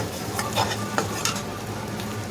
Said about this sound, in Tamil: நல்லா மிக்ஸ் பண்ணி விட்டுருங்க எல்லாமே ஒன்று சேர்ந்து வதங்கி வரணும்